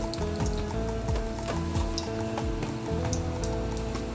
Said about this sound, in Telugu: ఇప్పుడు అందులో వెల్లుల్లి రెప్పలు కొద్దిగా చిదుముక్కుని వేసాను ఇవి ఇలా వేగుతూ ఉండగానే